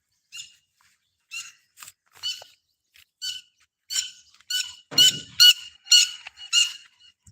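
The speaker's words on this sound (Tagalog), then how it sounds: "Ang ingay ng mga ibon dito." Noisy birds chirp outdoors in short, repeated bursts, starting sparse and then crowding together in loud, bright clusters with no talking.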